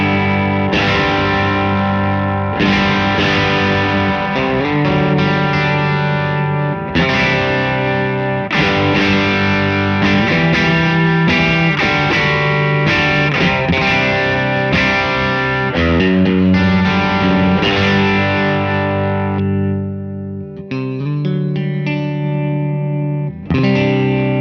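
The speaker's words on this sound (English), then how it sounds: "you can really hear how the amp sings and saturates in this clip." Electric guitar played through a Bad Cat Luca amp, heavily saturated and singing, with light reverb; sustained distorted chords and notes ring out loudly and continuously, alone, ending in a few quieter picked notes.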